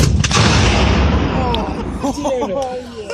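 A Civil War artillery cannon fires during a live demonstration, a loud blast whose rumble fills the first two seconds and slowly fades before people start talking.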